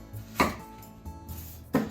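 A knife chops an onion on a cutting board, two sharp, close chopping impacts separated by a quiet pause, with no talking.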